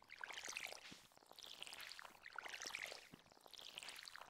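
Watering can pouring over crops in Stardew Valley, two soft splashing pours with trickling water, each lasting about a second and repeating in a quiet, even rhythm.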